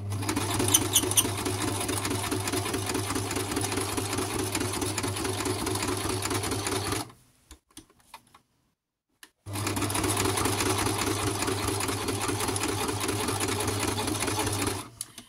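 A sewing machine that needs greasing and dislikes the cold runs loudly and steadily for several seconds, stops briefly with a few clicks, then starts stitching again at the same pace.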